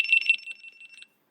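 A pair of GoPro Hero 12 cameras emit a fast run of high, thin electronic beeps as they power down, close and clear, then cut to silence after about a second.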